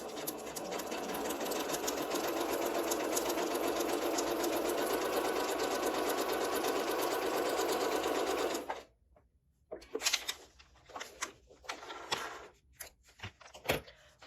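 A home sewing machine runs a small, tight zigzag stitch in a beginner's lesson, a loud continuous buzzing drone for about nine seconds, then stopping abruptly into quieter scattered clicks and handling knocks.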